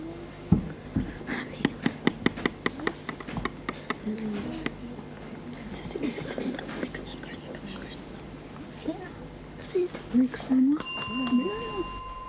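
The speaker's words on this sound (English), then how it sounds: "That's the bell." At a school quiz competition, a bell rings near the end to signal that time is up. It sounds as a brief bright tone over a stretch of quiet whispering, soft handling noises and muffled voices.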